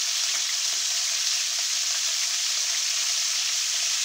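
Pieces of venison fry in hot oil, a dense, continuous loud sizzle with a steady crackling hiss throughout and no talking.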